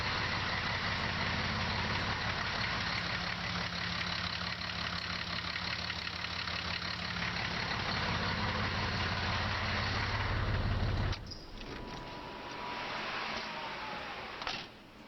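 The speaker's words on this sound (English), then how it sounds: "You gotta love the sound of these old pre-chamber diesels" An old pre-chamber diesel engine idles with a steady clattering knock, loud and close, then shuts off abruptly, leaving a quieter mechanical hum.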